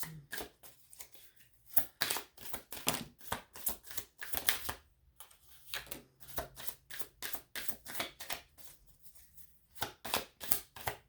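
A deck of tarot cards is shuffled repeatedly, quick riffling bursts and flicks in an irregular rhythm, close and crisp with short pauses between handfuls.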